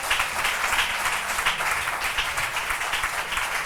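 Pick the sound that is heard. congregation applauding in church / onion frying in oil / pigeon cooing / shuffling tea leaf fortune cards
congregation applauding in church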